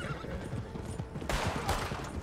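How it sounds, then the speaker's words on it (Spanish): A horse in the Red Dead Redemption 2 Online video game neighs loudly, then its hooves clop as it moves, all over a steady background of game ambience. "Pobre caballo del Darwin, ¿verdad?"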